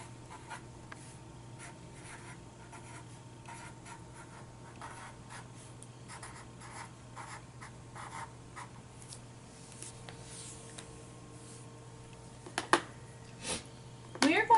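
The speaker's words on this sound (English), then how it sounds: "put your name at the top of your paper" A pencil scratching out a name at the top of a sheet of paper in a classroom, a run of soft, faint strokes followed by a few louder scrapes near the end.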